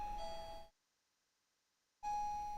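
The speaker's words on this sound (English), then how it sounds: "Did I just hear the doorbell?" A back-door doorbell rings twice, each chime a clear sustained tone separated by a short silence, heard close and alone against faint room noise.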